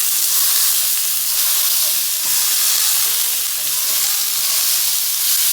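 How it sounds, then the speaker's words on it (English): Ground beef browning in a pan, an unbroken, close, loud sizzle and hiss with occasional soft stirring scrapes, no voices. "So I'm just browning some beef."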